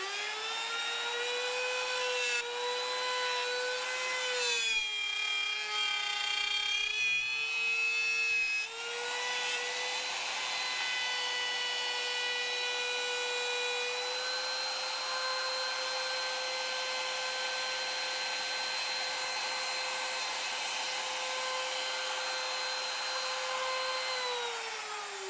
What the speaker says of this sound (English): Plus this is a slow start router.